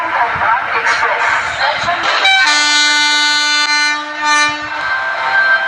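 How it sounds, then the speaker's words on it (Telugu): A mobile train video game plays its train horn, a loud sustained multi-tone blast that cuts in after two seconds of rumbling running noise and holds for about three seconds, with talking alongside. "హార్న్ అయితే చాలా బాగుంది"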